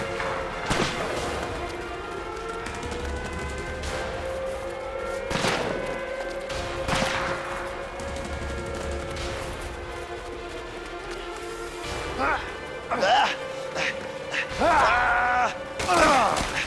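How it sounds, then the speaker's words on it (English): Enemy gunfire in the video game A Way Out, bursts of shots and impacts cracking over a steady game soundtrack, with a sustained tone running beneath and louder clustered hits toward the end. "The fuckers are shooting to kill!"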